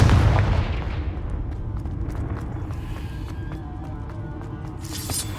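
A Confringo fire spell explodes in Hogwarts Legacy on PS5, opening with a loud, heavy blast that fades into a lingering rumble, followed by a bright crackling burst near the end, with no voices.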